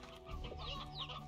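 Chickens in the Slime Rancher video game cluck softly, a quick burst of clucks over a faint low background.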